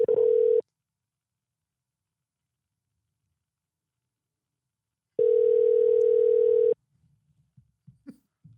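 Ringback tone on a phone call to a Sonic Drive-In, two steady electronic tone bursts separated by silence, the second ending as faint handling noises follow.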